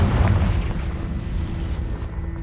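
A Confringo fire spell explodes in Hogwarts Legacy with a loud, heavy boom that rumbles on and slowly fades over a couple of seconds, with no voices over it.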